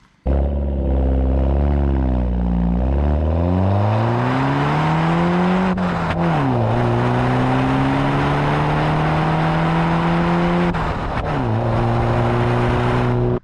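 A straight-piped BMW 1 Series with the exhaust box removed revs loudly and accelerates through gears, its raspy engine note rising and dropping at two shifts, steady and close throughout.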